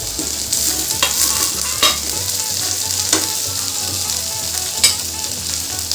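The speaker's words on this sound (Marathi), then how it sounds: "कांदा आपला मस्त आपण आता तळून घेऊ त्याच्यातच मी आता ही हिरवी मिरची आणि लसूण कुटून घेतलाय ती सुद्धा टाकते" Sliced onion sizzles in hot oil with green chili and crushed garlic added for a village-style eggplant bharta. A steady, close frying hiss is broken by several sharp scrapes and clinks of stirring.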